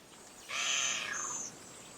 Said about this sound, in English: The culprit is a giant kua, a shy bird which eventually emerges from the dense scrub thickets.